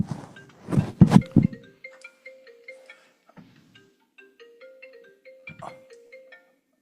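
A phone ringing with a short melodic ringtone that repeats in rising and falling electronic tones, heard clearly after a few thumps nearby, with no talk over it.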